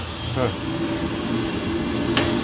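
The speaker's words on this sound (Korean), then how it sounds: "지금 우웅 하고 소리 나는 게 쿨링 팬이에요." The cooling fan of a coffee roaster with a damper hums steadily at close range as the beans are discharged after the burner is shut off, with brief knocks over the drone.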